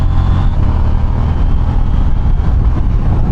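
A KTM 790 Duke motorcycle engine runs hard and close, a dense low rumble with quick quickshifter gear changes that barely break the throttle, heard alone without talk.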